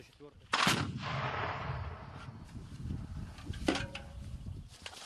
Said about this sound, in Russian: Стрельба из миномета 82 миллиметрового калибра до условного врага 800 метров.